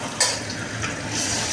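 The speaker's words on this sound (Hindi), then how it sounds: "ये देखिए मेरा जो ग्राइंड किया हुआ मसाला है अदरक लहसुन का, वो डाल देती हूँ मैं" Ground ginger-garlic paste drops into a hot pan of frying pakoda curry masala, setting off a close sizzle and stirring scrape that swell briefly and then settle into a steady crackle, with no voices.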